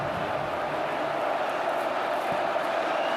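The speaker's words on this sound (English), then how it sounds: "Crowd picking it up." A college football stadium crowd at Florida International versus Penn State swells into a steady, roaring broadband murmur, thousands of distant voices blending into a constant wall of noise.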